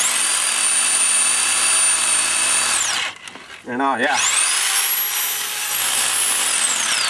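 A rotary hammer drill bores into concrete, whining loudly and continuously, cuts out briefly for a second while a voice speaks, then spins up again.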